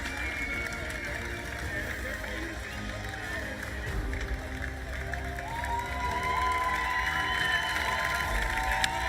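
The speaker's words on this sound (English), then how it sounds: "It's great to hear the crowd, isn't it?" Crowd at the FIA Motorsports Games 2022 opening ceremony cheering for Turkey, a dense continuous roar of voices with whistles and shouts, an announcer talking over it.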